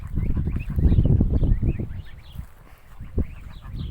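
Chinese goose goslings heading to the water, a close flock of soft chirps and peeps with low fluttering and shuffling, busy at first and then thinning out.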